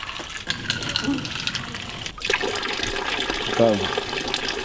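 Water drawn with a ladle-like dipper for ritual hand washing at a purification basin in Tenri, Japan: pouring and splashing over an outdoor ambience, with a sharp break midway and a short burst of trickling near the end.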